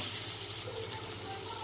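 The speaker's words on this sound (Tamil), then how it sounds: "கோஸ் நல்லா வணங்கிருச்சுங்க" Cabbage sautéing in oil in a pan, a soft, even hiss of frying heard close but fairly quiet, steady for the whole short stretch with no talk.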